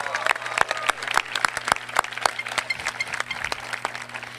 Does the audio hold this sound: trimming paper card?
no